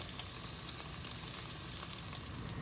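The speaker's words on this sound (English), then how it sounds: "browning a whole pound of meat" A whole pound of beef browning in a frying pan for a beef, mushroom and Guinness pie: steady, faint, even sizzling and crackling of meat in hot fat, continuous with no voices.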